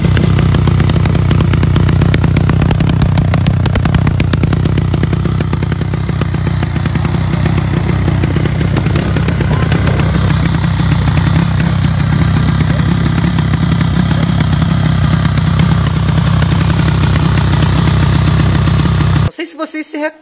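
A loud Honda Twister motorcycle with an aftermarket exhaust idles close by with a deep, throbbing rumble and rattly clatter, holding steady for the whole stretch before cutting off at the end.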